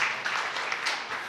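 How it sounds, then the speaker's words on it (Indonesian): A church congregation applauds, a brief, dense patter of many hands clapping together, steady and somewhat distant. "Yang setuju tepuk tangan yang meriah bagi Tuhan Yesus."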